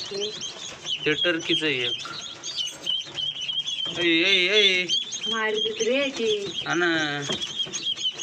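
Young free-range village chicks chirp and peep repeatedly in shrill bursts, close by, with a person talking intermittently among the calls.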